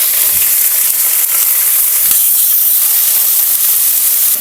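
Chopped onion sizzles in hot oil for a vegetable sabji, giving a loud, continuous close-up hiss that stays steady throughout.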